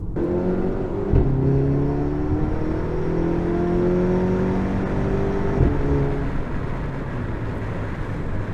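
An APR Stage 2 Audi A3 with a Milltek cat-back exhaust drones steadily, its exhaust note climbing as it accelerates on a highway, with constant road and wind noise throughout.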